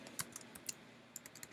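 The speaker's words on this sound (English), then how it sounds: "For this, I'm going to type in" Keys on a computer keyboard click in short, uneven bursts at close range, a quiet run of separate taps with small gaps between them and no voices.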